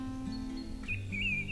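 Birds sing at sunrise in the arid sagebrush shrub steppe of central Washington, thin high chirps and a trilling phrase over a steady low background tone, moderately loud and without voices.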